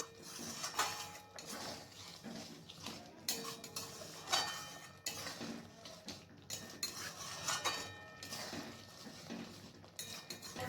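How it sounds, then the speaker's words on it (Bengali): Raw mango chutney made with mustard and sugar is stirred in a pan, a spoon clinking and scraping against the metal in a steady, irregular rhythm close by, with no talking. "এরপর আবার আমি একটু নাড়াচাড়া করে নিচ্ছি"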